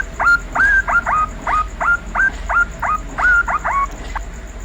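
A reversing alarm for a Hino 500 truck: about a dozen quick chirping tones in an uneven, bird-like pattern, close and clear over a low hum, with no talk.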